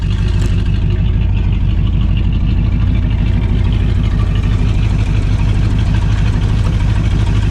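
A Jeep J10 crew cab engine idles while warming up, a loud, close, steady low rumble with a fast, even pulsing beat that runs unbroken throughout.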